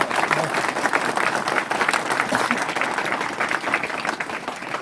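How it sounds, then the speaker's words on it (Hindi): A crowd at a Savitribai Phule birth anniversary gathering gives loud, sustained applause, dense clapping rolling on steadily with faint voices mixed in. "इनके लिए एक जोरदार तालियां बजाएं"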